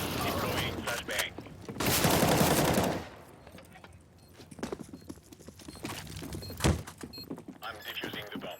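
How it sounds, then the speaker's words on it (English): In a Counter-Strike match between EnVyUs and Liquid at the ELEAGUE Atlanta Major 2017, a flashbang goes off amid bursts of gunfire and a loud sharp bang. An excited caster talks over the game sounds. "Deploying flashbang"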